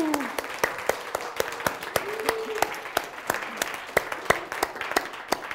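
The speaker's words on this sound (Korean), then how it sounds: "기쁨조 박수 주셔야지 이분이 힘을 얻으세요." Applause from a small audience at a Bible and science lecture: separate sharp claps that form a loose, uneven rhythm, fairly close, while a voice speaks faintly underneath.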